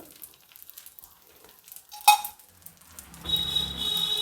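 Set dosa batter on a hot pan with oil or ghee spread on it, giving a quiet scrape and a brief clatter before a steady soft sizzle builds and continues to the end, no talking.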